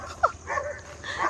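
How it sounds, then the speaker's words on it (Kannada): A dog gives a couple of short, quick yips and whines at moderate distance outdoors, lasting just over a second. "ಇಲ್ಲೊಂದು ನಾಯಿ ಹೋಗ್ತಾ ಇದೆ."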